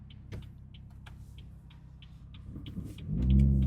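A BMW 340i with an exhaust mod cruising at low speed, a deep rumbling drone under faint rhythmic ticking, swelling into a louder, heavier exhaust roar near the end.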